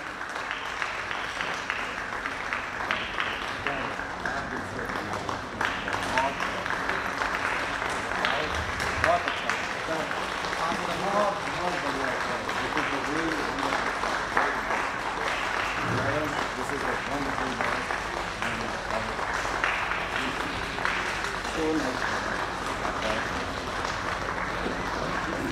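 Applause from an audience at a holistic therapies conference inauguration session, a long, steady spell of clapping that continues at fairly even loudness, with voices and crowd noise mixed in underneath.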